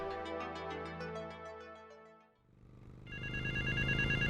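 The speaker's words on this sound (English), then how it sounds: "he heads to the mall and lifts the ringing receiver" A telephone rings in the video game GTA Vice City, a repeating electronic ring that takes over after a stretch of music and carries on loud and steady to the end.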